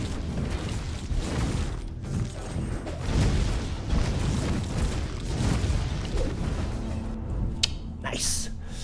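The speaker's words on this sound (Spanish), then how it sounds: "Le hace un rastro de fuego, caen meteoritos, la explosión, acá la explosión." Meteor explosions in the video game Death Must Die rumble as a steady, dense barrage of booming impacts, with crackling bursts near the end and game effects layered throughout.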